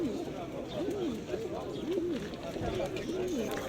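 Bursa pigeons, young birds and their parents, at an Istanbul bird market, cooing in repeated soft rising-and-falling calls throughout, with market chatter and voices talking in the background.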